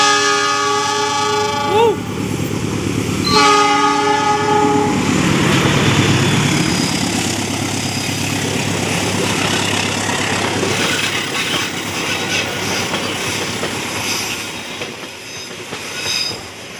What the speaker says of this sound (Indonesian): ini sebentar lagi kereta api Argo Wilis